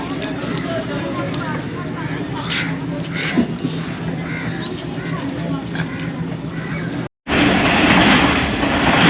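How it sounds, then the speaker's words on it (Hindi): Ravi Express train rolling along a branch line at slow caution speed, a steady rumble with rhythmic clatter heard from on board, then a brief cutoff and louder, closer running noise. "तकरीबन 40 किलोमीटर फ़ी घंटा की रफ़्तार से दौड़ रही है ट्रेन।"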